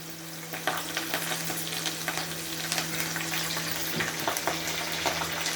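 Mustard seeds and other tempering spices fry in Dalda ghee, giving a steady close sizzle with scattered small pops and crackles throughout, alone without talk.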